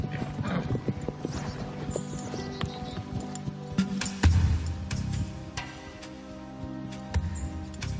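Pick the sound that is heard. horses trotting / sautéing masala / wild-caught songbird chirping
horses trotting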